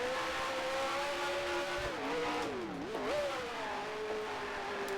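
A race car engine in Grand Prix Legends screams at full throttle down a hill, a loud continuous whine with rising and falling pitch as it shifts through gears, alone with no talk.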